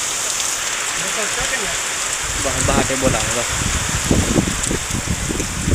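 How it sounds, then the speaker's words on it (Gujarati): Steady rain pours down with a constant hiss of drops striking surfaces, while a person talks over it. "અમારે વરસાદ આવી ગયો"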